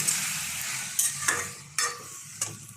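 Tomato chutney with salt and turmeric is stirred in a pan, with a low background sizzle and several sharp spoon scrapes spaced irregularly. The sounds are close and fairly quiet, with no talking.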